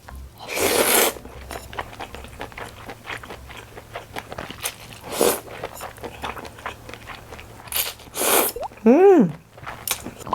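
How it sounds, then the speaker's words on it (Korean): Crunchy bites and chewing of Haeju-style cold naengmyeon noodles mixed with julienned cucumber, in several close, crisp bursts separated by quieter moments at a home meal. "이렇게 오이 약간 채처럼 넣어 먹으면 아삭아삭한 오이 면 같고"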